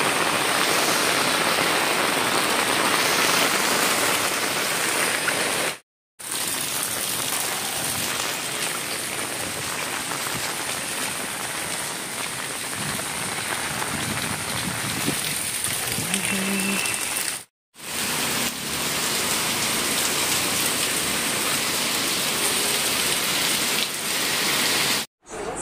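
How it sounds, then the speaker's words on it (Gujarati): Heavy rain falling steadily in Junagadh as waterlogging floods the area, a dense continuous hiss and patter that stays loud and close for the whole stretch, broken only by a couple of brief cuts. "વરસાદ એવો છે એમ કહું અત્યારે."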